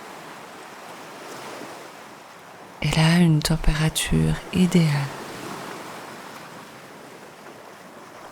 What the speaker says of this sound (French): Des vaguelettes viennent s'échouer sur vos pieds.